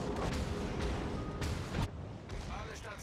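Battleship gun salvo in World of Warships, the Großer Kurfürst firing amid a dense, rumbling battle bed, with heavy booms at the start and a sharp, powerful blast around the middle over constant low roar.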